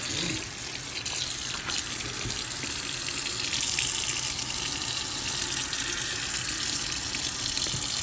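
Hot water gushing from a tap into a container, a steady broad splashing rush that holds constant for several seconds, close and alone with no voices.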